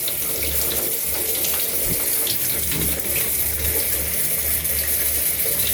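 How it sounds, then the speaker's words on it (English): Tap water runs hard and steadily as a Roborock cordless stick vacuum's filter is rinsed under it, a loud continuous splashing rush with small shifts in tone. "You see how water is going through"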